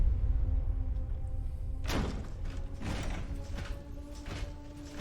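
Heavy doors grinding open by machinery in the Fallout TV series: a sustained creaking, whirring mechanism with a thud and a rumbling scrape near the middle, then further clanks as the doors move, with no talk.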